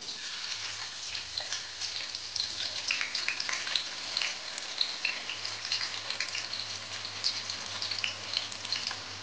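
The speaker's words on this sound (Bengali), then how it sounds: "তো সর্বপ্রথমে এখন আমি বেরেস্তা করব, তার জন্য চলো পেঁয়াজটাকে দিয়ে দিই" Sliced onions deep-frying into crisp birista for a chicken biryani, giving a steady close crackling sizzle with dense tiny pops throughout, no talking.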